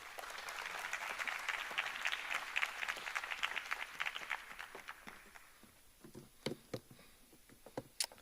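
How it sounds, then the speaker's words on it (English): A crowd at a mayoral matric awards ceremony applauds, a thick wash of many clapping hands that swells, then thins after a few seconds to scattered, sharper individual claps trailing off. "Please give him a round of applause"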